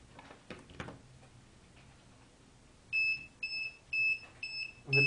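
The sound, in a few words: electric bell ringing, switched on by EOG cursor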